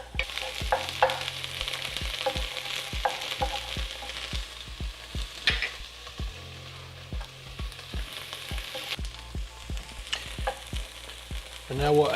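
Onions frying in a pan for stuffed pepper sloppy joes, a steady sizzle broken by repeated scraping stirs in an uneven rhythm, close by and with no voices.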